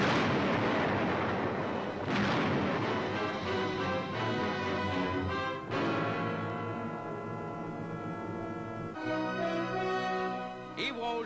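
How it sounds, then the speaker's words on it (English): High explosive blasts wiping out Japanese fortress caves on Iwo Jima, heard as loud, continuous rumbling detonations and booming bursts with little pause, a heavy sharp blast near the middle and another late, all from an old wartime newsreel. "Their fortress caves, saturating the island, are wiped out by high explosive."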